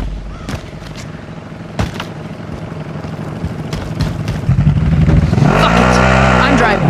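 A car being driven and revved in a Call of Duty battle royale match, the engine building louder from about the midpoint and rising in pitch near the end, over a steady layer of game noise.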